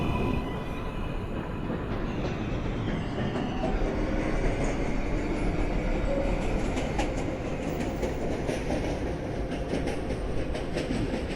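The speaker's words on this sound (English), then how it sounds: "This is a Manhattan-bound 7 express train." A Manhattan-bound 7 express subway train running, heard from inside the car as a steady, loud rumble with wheel clatter and faint squealing throughout, with no talking.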